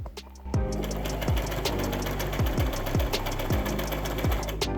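Sewing machine stitching a muslin tiered skirt, a fast steady mechanical whir with rhythmic needle thumps, close and continuous.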